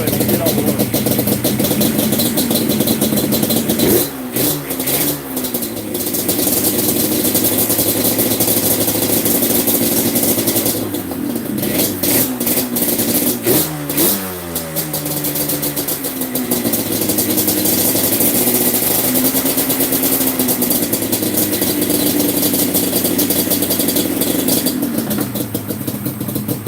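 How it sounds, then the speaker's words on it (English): A tuned two-stroke engine is kick-started and settles into a steady idle, its tone shifting with brief revving around the starts, running loud and close throughout with occasional voices over it. "two-stroke is tuned good if it'll kick the first kick without the choke pull or nothing"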